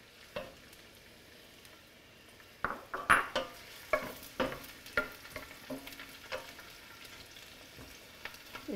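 Onions tipped into a frying pan for pasta primavera; a quiet background gives way to clattering and stirring knocks, then a soft ongoing sizzle with scattered utensil taps.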